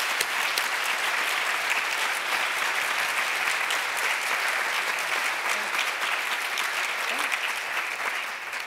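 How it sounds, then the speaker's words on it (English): Sustained audience applause at a supportive housing summit plenary session, honoring the morning's panelists; dense, steady clapping from a sizable crowd that holds level throughout and tapers slightly at the end. "How about a round of applause for our panelists this morning?"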